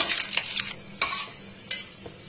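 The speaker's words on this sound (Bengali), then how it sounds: "অল্প একটু সাদা জিরে। ফোড়নটা একটু ভেজে নেব।" White cumin seeds crackle and sizzle in hot oil for a tempering, with sharp stirring clinks of a spoon against the pan breaking through a soft, close sizzle.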